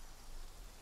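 Steady rain falls in Disney Dreamlight Valley, a dense, even hiss of drops with no breaks through the whole short stretch.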